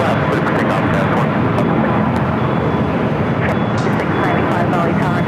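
A jet airliner takes off from runway 24 left at LAX, a loud, constant broadband engine roar with no pauses through the whole stretch.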